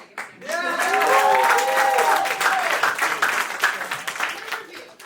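An audience at a live show called New York Sock Exchange claps and cheers loudly for several seconds, with shouts rising over the applause before it thins out.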